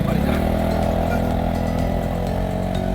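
A loud motorcycle engine at a baseball field drones steadily throughout, its revving rumble holding close and unbroken for the whole stretch.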